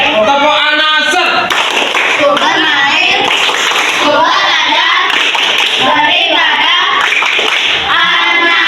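A classroom of children does a rhythmic group clap, tepuk anasir, loud and close, with patterned claps mixed into chanting voices throughout.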